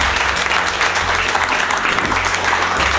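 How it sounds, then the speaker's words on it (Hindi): Vigorous applause from a classroom of students at a hardware training institute, sustained and dense from start to finish with no pauses, loud and close. "दुर्गेश सर के लिए जोरदार ताली बजाइए प्लीज।"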